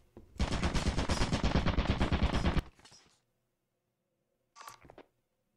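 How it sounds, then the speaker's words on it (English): A turret in Lethal Company fires a rapid, loud automatic burst lasting about two and a half seconds, followed by silence and then a short second burst. "So there was a turret there."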